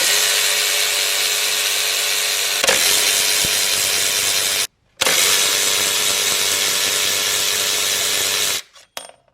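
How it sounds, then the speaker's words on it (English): A power tool runs steadily while 10mm bolts come out of the lower intake plenum on a Z car, in two long continuous buzzing runs split by a brief stop and ending abruptly, loud and close. "Next, we're going to take off the 10mm bolts."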